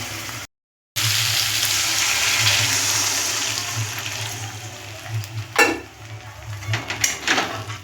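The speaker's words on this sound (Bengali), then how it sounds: "এবার আমি এর মধ্যে অল্প পরিমাণে জল দেবো" Water poured into sizzling fried spice paste for a tengra fish curry, a loud hissing rush after a brief gap, then bubbling and sizzling with a few sharp stirring clatters toward the end.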